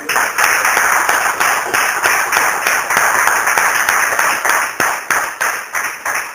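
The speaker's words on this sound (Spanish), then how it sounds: "aplaude fuerte al Señor." A church congregation bursts into loud, sustained applause, dense overlapping clapping that pulses in waves and fills the room for several seconds.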